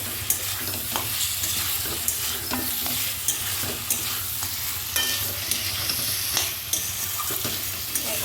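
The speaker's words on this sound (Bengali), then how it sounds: "আলুটা দিয়ে খুব ভালো করে মিশিয়ে নেব" Chicken curry with fried potato pieces being stirred in a pan, steady scraping and stirring over a constant sizzle of frying, with no voices.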